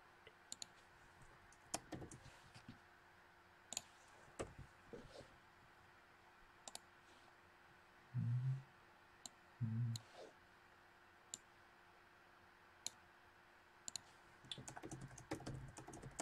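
Computer keyboard typing in scattered bursts of sharp clicks and taps, with a few short muffled knocks, close and fairly quiet with no talking.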